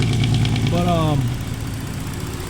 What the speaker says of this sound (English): That's a loud dump truck, but downshifting.